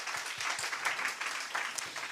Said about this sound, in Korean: 박수 좀 한번 쳐드립시다